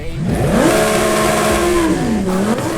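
A Lamborghini Huracan Tecnica V10 engine in a racing video game revs up through an aftermarket exhaust and holds a rising, roaring note, then dips and climbs again, loud and continuous with no speech.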